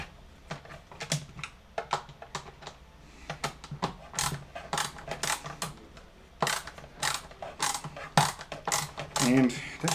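Screws are backed out to remove the coiled part of a Bissell CleanView Swivel Rewind Pet 2254L vacuum, heard as a run of sharp, close ratcheting clicks in irregular bursts.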